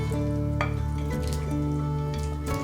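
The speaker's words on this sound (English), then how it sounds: "our browned meat can go back into the pan." Browned meat sizzling as it goes back into a hot pan for a St Patrick's Day stew, with steady loud frying and a few stirring and clattering sounds over a low hum.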